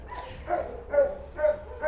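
Dogs housed in indoor shelter kennel boxes bark repeatedly, about four yips and barks in an uneven rhythm, moderately close, with a low background hum between them.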